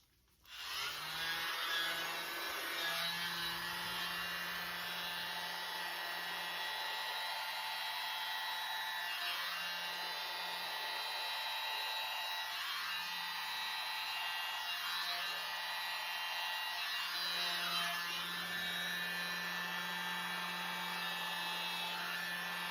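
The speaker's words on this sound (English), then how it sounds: "So I'll now get my little blower again." A small handheld blower hums steadily and continuously for the whole stretch, pushing acrylic paint across a canvas in a Dutch pour; a close, even airy drone with no talking.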